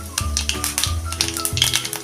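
Cumin seeds, half a spoon, dropped into warm ghee for a tempering, crackling and popping in quick irregular bursts close by, with no voices over the sizzle.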